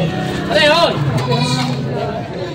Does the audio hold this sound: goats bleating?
yes